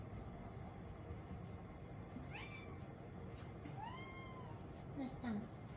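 A pet cat at home gives several soft, rising meows spread across a few seconds, faint against a steady low background hum.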